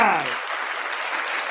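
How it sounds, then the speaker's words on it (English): Crowd applause on a livestream, a steady wash of clapping noise that swells in right after a brief voice at the start and holds evenly loud to the end. "Round of applause for you guys."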